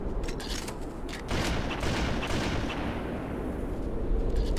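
Sniper rifle fire in a competitive tournament match of a first-person shooter video game, heard as a dense, continuous wash of game gunfire and effects with a sharp jump in level partway through, no voices.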